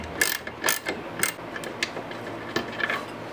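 A ratchet backs out the last differential bolts on a white E36 sedan's rear subframe, sounding as a series of quick, close metallic clicking bursts in an uneven rhythm.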